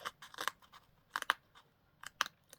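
A craft knife cuts into a paper tag in short, crisp scratching strokes, coming in three separate bursts close by with quiet pauses between them.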